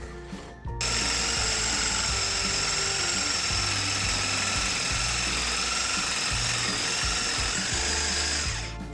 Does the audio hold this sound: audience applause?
no